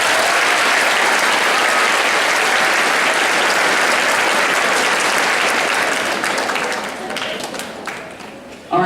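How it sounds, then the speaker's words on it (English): Loud, dense applause from an audience at a patriotic program fills the space steadily, then thins and fades toward the end as a voice comes in. "Give yourselves a round of applause."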